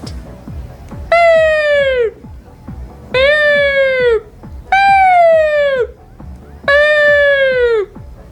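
A voice imitates an ambulance siren with four loud, drawn-out wailing calls, each sliding downward in pitch, separated by short pauses.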